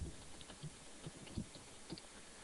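Faint, scattered keystrokes on a computer keyboard tap along in an irregular rhythm during a Java coding lesson, quiet and close with no speech.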